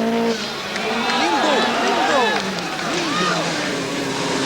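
An Audi Quattro rally car at the 1983 Rally Portugal roars through a stage, engine pitch swooping up and down through gear changes, with a commentator speaking over it throughout.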